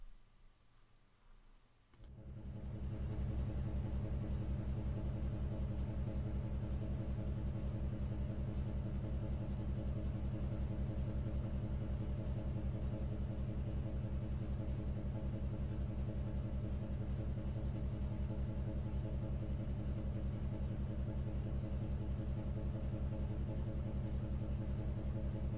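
A Reihmann RHM ATF 6000 automatic gearbox oil change machine running flow control on a car kicks in after a quiet start, then holds a loud, steady mechanical hum with a faint clicking rhythm, alone without talk.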